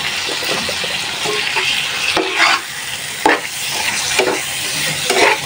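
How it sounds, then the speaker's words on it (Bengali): Snakehead fish cooks in oil with turmeric, chili, coriander and garlic paste, a steady sizzle in the pan broken by several scraping stirs of a spatula, close and clear. "মশলার সাথে ভালোভাবে মাছটা কষায় নিই, তেল মশলা যাতে ভালোভাবে ঢুকে মাছের ভিতর।"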